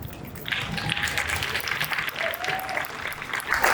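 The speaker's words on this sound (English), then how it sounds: "please give a round of applause and stand for our 2022 Vanguard Award recipient, the Ruth Carter." A crowd at the 53rd NAACP Image Awards fashion show applauds and cheers for the Vanguard Award for Costume Design recipient, filling the room with sustained, full-bodied clapping at a steady, loud level throughout, with cheering and voices blended in.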